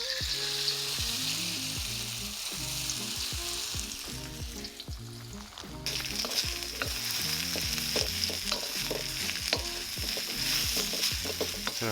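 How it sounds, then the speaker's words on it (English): Lo mein noodles fry and get stirred in plenty of hot oil for a black pepper chicken lo mein, a loud steady sizzle broken by repeated rhythmic clanks of stirring, with no talking. "Drop in the lo mein noodles."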